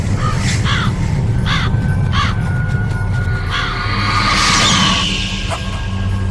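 Ravens caw in the stealth video game Metal Gear Solid, a series of harsh, repeated calls spaced a second or so apart, loud and clear over a steady ambient game drone.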